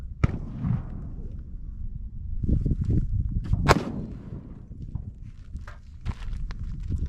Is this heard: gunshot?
yes